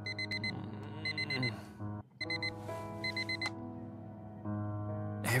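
Harry's electronic alarm clock in the video game Fragments of Him rings in repeated beeping bursts over a soft sustained tone, pausing briefly midway and then resuming.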